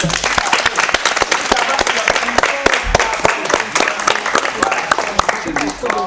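Audience applause at a French-language educational magazine show on a podium stage, with dense clapping running steadily for several seconds under a speaking voice.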